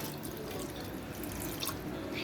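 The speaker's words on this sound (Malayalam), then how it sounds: "ഇതിലേക്ക് നമുക്കൊരു 1/2 കപ്പ് വെള്ളം ചേർത്ത് കൊടുക്കാം." Half a cup of water is poured into mutton in a pressure cooker for a home-style mutton roast, giving a soft, continuous splashing trickle that stays fairly quiet throughout.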